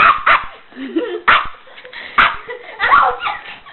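A dog barks in sharp bursts, about four loud barks spread across a few seconds with whimpering yips between them, close by and mixed with a person talking indoors.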